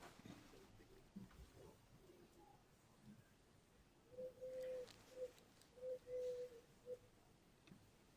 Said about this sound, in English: I've got an owl hooting in my ear from somewhere, every so often